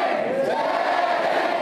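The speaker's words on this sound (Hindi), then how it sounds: "आपको गुंजा देना है दूरदर्शन के इस ऑडिटोरियम को, इस स्टूडियो को, जय हिंद का नारा" A studio auditorium full of NCC cadets shouting "Jai Hind" in unison, a loud, sustained massed chant ringing through the hall with no break.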